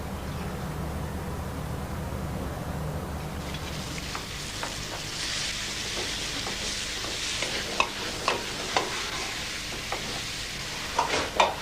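A cook from a Chinese restaurant fries a family meal in a pan: a steady hiss that swells into loud sizzling after a few seconds, with scattered clinks and scrapes of stirring near the end.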